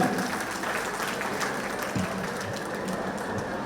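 A hall audience applauds at a centenary celebration honouring former office-bearers, a steady, moderately distant patter of many hands sustained without a break.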